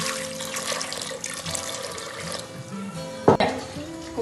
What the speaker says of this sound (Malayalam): കുറച്ച് വെള്ളം ഒഴിക്കാം നമുക്ക്.